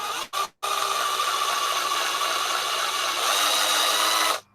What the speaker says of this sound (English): you really don't want to be drilling fast into plastic